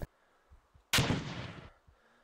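One sharp gunshot in the Arma 2 video game, loud and close, with a sudden crack and a roughly one-second rumbling tail, preceded by faint quiet thumps.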